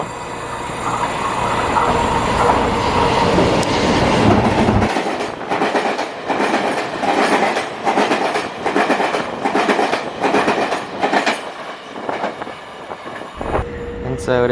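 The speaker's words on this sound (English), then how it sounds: "And a train pulling through." A loud EMU 900 local train in Taiwan rumbles past close by, its roar giving way to rhythmic clickety-clack of wheels over rail joints, ending with a brief high squeal.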